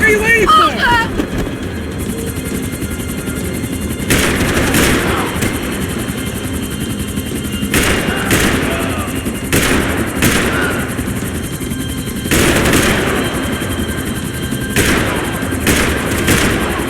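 Gunfire in the Max Payne 3 video game during a chase, with repeated sharp bursts over a steady helicopter-like roar and shouting voices mixed in.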